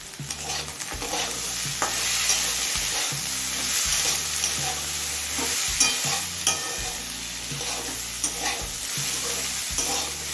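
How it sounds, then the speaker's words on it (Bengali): Chopped onion fries with potatoes in a pan, giving a continuous sizzle with repeated stirring scrapes, over a steady low tonal background. "পেঁয়াজটা দেওয়ার পর আমি মিনিট তিনেক ভেজে নিলাম"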